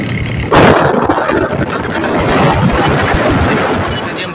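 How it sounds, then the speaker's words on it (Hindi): Motorcycle engine running steadily on a ride through rural Sindh, Pakistan, a loud broadband rumble with strong wind buffeting across the microphone, rising sharply after a brief quieter moment and then holding constant. "हम आए हैं मोटरसाइकिल के ऊपर। मोटरसाइकिल पे ही हमने पूरा सफ़र किया है"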